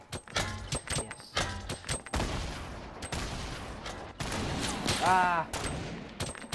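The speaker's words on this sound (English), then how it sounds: "Who's shooting us?" Gunfire during a Fortnite match: loud bursts of rapid shots and volleys in the first two seconds, then a sustained noisy rush with more shots near the end, with a brief exclamation from a player.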